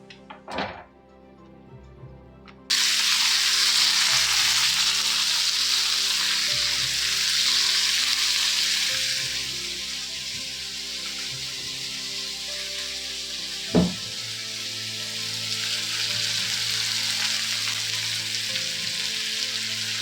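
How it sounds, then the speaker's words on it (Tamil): Onions and tomatoes sautéing in a pan for cauliflower gravy: a thump near the start, then a loud, steady broadband sizzle that holds throughout, with a brief knock partway through. "வெங்காயம் தக்காளி போட்டு வதக்கி வச்சுக்கணும்"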